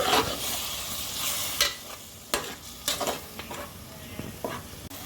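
Ginger and garlic fry in a pan for prawn biryani, a loud sizzle broken by several sharp scraping stirs of a spoon against the pan, close up with no talk.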